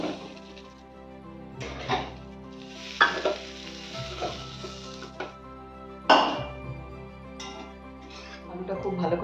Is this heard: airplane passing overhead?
no